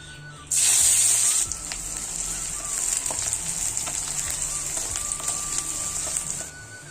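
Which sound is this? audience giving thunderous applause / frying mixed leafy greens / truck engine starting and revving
frying mixed leafy greens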